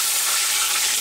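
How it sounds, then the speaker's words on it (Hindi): Chicken potato snacks frying in hot oil, a dense, steady, bright sizzle heard close and alone throughout. "तेल हमारा गरम हो चुका है चिकन पोटैटो फ्राई करने के लिए।"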